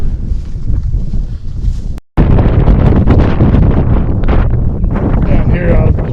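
Cold wind gusting hard into the microphone outdoors as a cold front moves in, a loud continuous roar and buffeting that cuts out for a moment, then returns just as strong.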